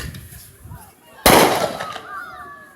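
A single loud firework burst cracks out during a Fourth of July beach show, a sharp bang with a crackling tail that fades over a second, while people chat nearby before and after.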